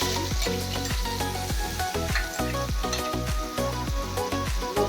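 Paneer masala gravy of tomato puree, onion, ginger and garlic frying in a pan, a steady loud sizzle with the regular rhythmic scrape of stirring, close up and without speech.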